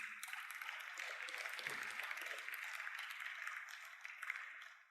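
Church congregation applause during a Spanish-language sermon, a steady, fairly faint wash of clapping heard from a distance that holds for several seconds.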